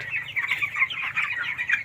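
Broiler chickens cluck and chirp continuously in a hot poultry shed during a power cut with the fans stopped, a dense, fairly close chorus of overlapping bird calls with no talking.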